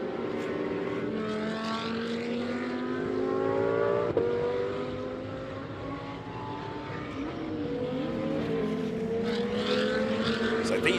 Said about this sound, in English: These cars are coming out of turn 8.